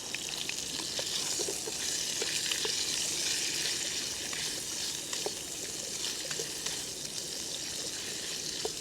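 Sausage fries in olive oil and its own fat in a stainless GSI Glacier mess kit skillet outdoors, giving a steady close sizzle with scattered small pops and crackles throughout, no talking.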